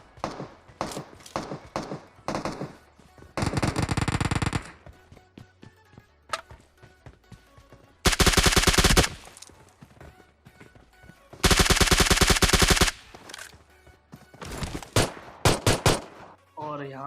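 Gunfire in the mobile battle-royale game PUBG Mobile, with loud sustained automatic bursts of two to three seconds, single sharp shots and quick clusters between them, up close and alone without talk.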